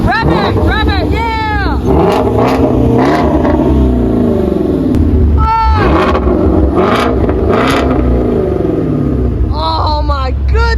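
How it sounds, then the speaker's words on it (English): Ford GT500 revving hard at a supercar meet: a loud, close engine roars and climbs in repeated rising sweeps, with excited people talking and cheering over it. "Oh, we got the GT500 coming in. Hey, what's up? Rev it, rev it."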